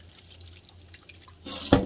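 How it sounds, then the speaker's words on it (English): Brownish water from boiled potatoes is poured out, starting as scattered drips and faint trickles, then swelling into a brief louder splashing gush near the end, close by with no talking. "Now I'm going to dump some of the water that's already gotten brown"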